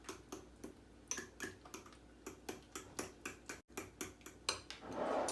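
Banana muffin ingredients stirred by hand in a bowl, a steady series of soft clinking taps from a utensil against the bowl, quiet and close, with no talking.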